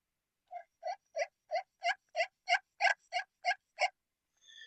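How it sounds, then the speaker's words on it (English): A soft hen turkey tree yelp made on a slate call: a steady run of eleven evenly spaced, raspy yelp notes, close and gentle, with no talking. "just a real soft hen yelp and what they call a tree yelp"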